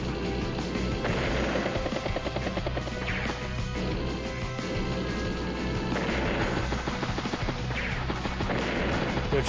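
Gunfire in an Advance Wars: Days of Ruin battle, with tanks, battlecopters, infantry and anti-air units trading shots; loud, continuous layered blasts and crashes over game music, with no pause across the whole stretch.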